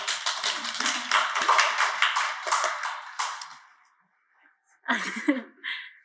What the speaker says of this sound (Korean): 세 번째 발제 저희 영도가 문화학교를 참여해주셨던 양성민님을 또 박수로 맞이해 주시면 감사하겠습니다